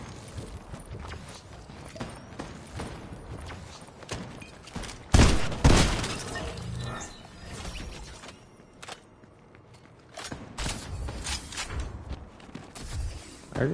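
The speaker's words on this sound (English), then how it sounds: "I heard gunshots" Gunfire in a shooter video game: a couple of loud, close blasts near the middle, then scattered quieter shots later over a steady background of in-game ambience and footsteps.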